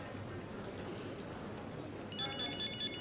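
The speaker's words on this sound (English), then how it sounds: "That's my phone." A phone starts ringing partway through, a steady electronic ringtone entering over a quiet indoor background in a TV drama scene.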